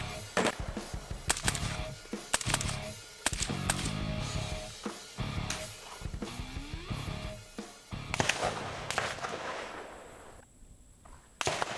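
A suppressed PSA JAKL piston-driven rifle firing outdoors, a string of sharp, muffled reports in quick succession with ringing tails, followed by quieter handling noise.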